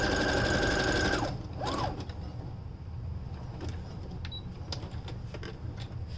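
A sewing machine stitches a stretched fabric beard sock in a fast, close whirring burst for about a second, then stops, leaving soft fabric handling and small clicks.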